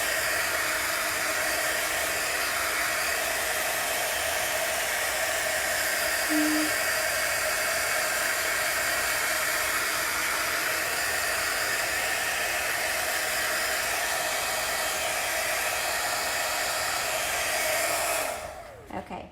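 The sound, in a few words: heat gun blowing hot air to dry chalk paste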